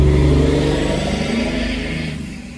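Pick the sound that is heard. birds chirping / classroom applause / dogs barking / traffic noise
traffic noise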